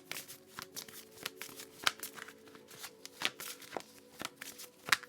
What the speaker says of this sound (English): Too many cards.